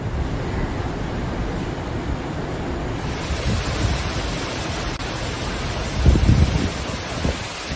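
Powerful tropical cyclone winds and heavy surf batter the Indian Ocean island of Mauritius, a continuous loud roar of wind and crashing waves with a heavier gust surging near the end.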